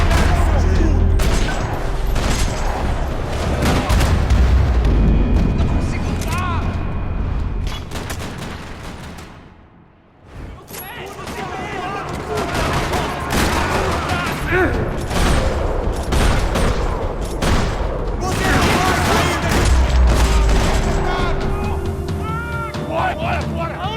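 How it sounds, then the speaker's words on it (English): Heavy bursts of rapid gunfire and explosions in the video game Max Payne 3, in a parking lot, crackling almost continuously, briefly dropping off midway before resuming, with voices occasionally under the din. "Another parking lot rattling with gunfire."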